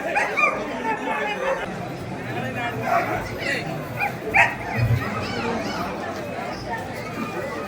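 Dogs barking and yipping at a Kanni dog festival in Amur, Melur taluk, Madurai district, with scattered barks and whimpers mixed into busy crowd chatter and nearby talking.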